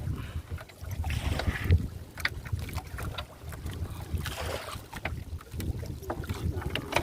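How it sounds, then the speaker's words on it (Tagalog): Wind buffets a small boat on the water during a long trip. Gusty microphone rumble mixes with scattered knocks and splashes, moderately loud and uneven. "Puro hangin ang inabot namin guys."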